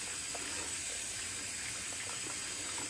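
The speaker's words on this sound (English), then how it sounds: "I'll go ahead and rinse my brush out" A shaving brush rinsed under a running tap: a faint, steady stream of water that flows evenly throughout.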